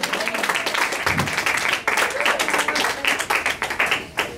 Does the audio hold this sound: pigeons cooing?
no